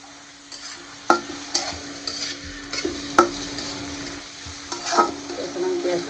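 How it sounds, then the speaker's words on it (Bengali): Onions fry in a pan with cinnamon and cardamom for biryani, a soft steady sizzle broken by sharp spatula scrapes and clinks against the pan. "পেঁয়াজটা ভেজে নিচ্ছি।"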